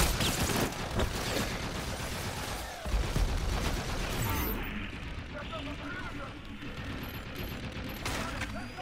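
Sustained game gunfire and explosive bursts from Call of Duty: Infinite Warfare, loud and dense through the first half, then thinning into a quieter rumble with scattered shots, mixed with game voice chatter.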